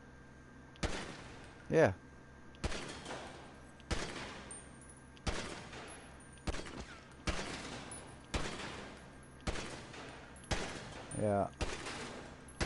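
Semi-automatic pistol shots in GTA V freemode, about nine single sharp reports spaced roughly a second apart in a steady rhythm, with a voice briefly answering between them.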